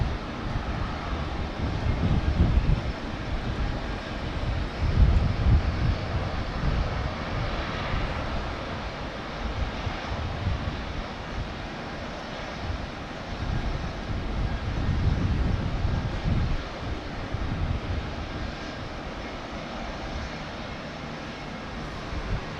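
Aircraft engines roar in the distance at Brisbane Airport for a long stretch, mixed with strong gusting wind that buffets the microphone and rises and falls in waves.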